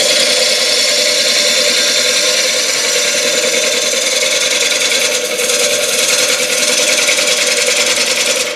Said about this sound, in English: We're going to try and take a cut up the outside of this. It's mostly a scraping cut.